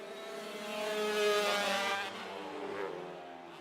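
Kawasaki and Husqvarna motorcycles race around a dirt track, their engines droning loudly in a rising and falling roar as the bikes pass, with no talk over the noise.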